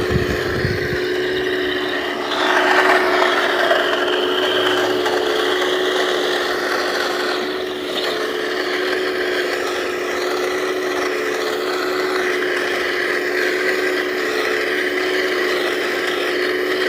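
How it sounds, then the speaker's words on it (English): An M1A2 tank engine in a video game runs as a steady mechanical drone with a constant hum, a brief louder surge early on, then a smooth, even rumble with no talk. "The engine noise is not so erratic."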